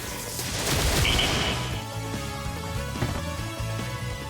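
A loud blast of heavy maser cannon fire in the video game Live A Live erupts and rumbles, followed by a sustained, buzzing electronic drone.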